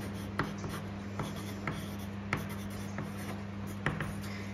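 Pencil writing a name on paper, heard as a soft, close scratching with a few light taps, quiet under a steady low hum and with no talking.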